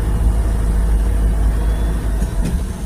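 A manual car engine runs after a shift into second gear, giving a loud, steady low rumble that fills the whole clip with no speech.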